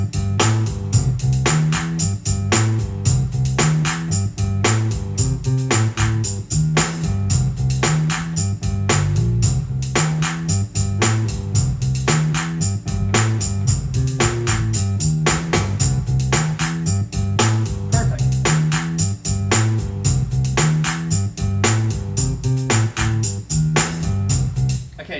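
A Korg PA1000 arranger keyboard runs a slowed-down major-key style, with a steady, dense groove of drums, bass and chords playing continuously and loudly with no talking over it.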